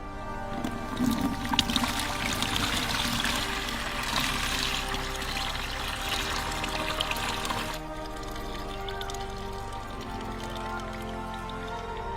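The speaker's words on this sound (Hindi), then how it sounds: "तो पानी को अपन छान लेते हैं ताकि जो बाकी की चीजें हैं वो वैसी की वैसी रह जाए।" Water is poured and strained from one container into another, giving a continuous close splashing and rushing that eases into a quieter steady trickle after about eight seconds.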